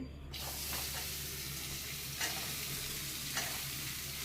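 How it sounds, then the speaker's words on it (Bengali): Chopped onion frying in a pan for a paneer roll, a steady close sizzle and hiss with a couple of brief louder spits, no talking. "পেঁয়াজটা একটু ভেজে নিই"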